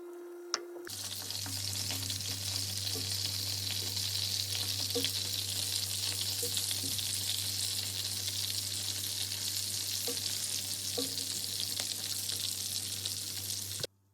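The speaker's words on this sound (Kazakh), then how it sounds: "ары қарай тефтелилерімізді жақсылап қуырып аламыз" Continuous crackling sizzle of meatballs frying in hot oil, close and fairly loud, with occasional light pops and a low hum underneath, ending abruptly.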